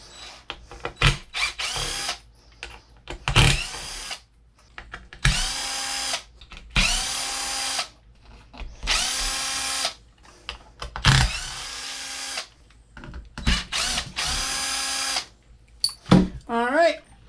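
Power drill unbolting a side bracket on a Tekno MT410 RC truck, running in about eight loud, close whirring bursts of one to two seconds each, separated by short pauses, with a brief rising whine near the end.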